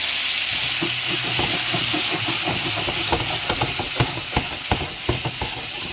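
Steak fries in melting butter in a hot pan, giving a loud, steady hiss and sizzle with scattered pops and crackles that sharpen toward the end.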